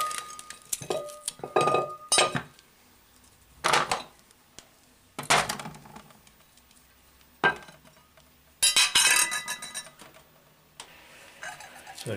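A knife chopping an onion in a makeshift cooking setup, with irregular loud, close clattering cuts and knocks against a board or dish, separated by quiet gaps.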